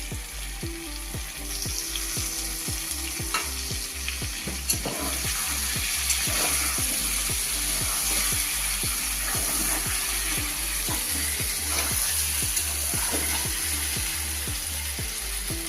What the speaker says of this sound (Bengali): আমি কাঁচা কেটে রাখা টমেটোগুলো দিচ্ছি